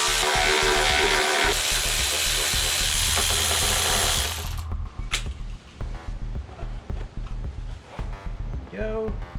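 A power tool whirs loudly for several seconds while removing the valve cover bolts on a Toro zero turn mower engine, then cuts out, leaving quieter clicks and handling noises with a voice talking.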